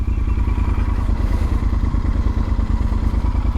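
A motorcycle passes by in a video game, a steady low engine drone with rapid thumping pulses and some clatter, loud and continuous throughout with no talking over it.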